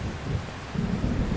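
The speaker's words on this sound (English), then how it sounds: "I just really hate thunder." Thunder rumbles in the Xenosaga Episode I game on PS2, a low rolling wash mixed with rain-like hiss, fairly soft and with no voices.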